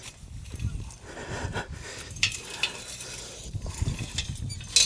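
A big rake drags across a bumpy lawn to level it, giving repeated close, coarse scraping and rustling strokes in an uneven rhythm, with no talking.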